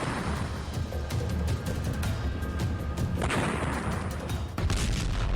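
Loud, dense blasts and rumbling war explosions in the Russia-Ukraine war, one after another with heavy booming low end and crackling debris, continuous and chaotic.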